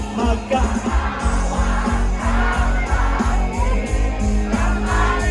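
A crowd shouts and cheers continuously over loud, thumping music at an outdoor concert in Benguet, Philippines, voices blending into a steady roar.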